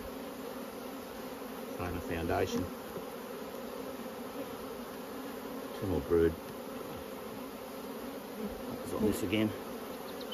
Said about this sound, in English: so we'll shake those bees off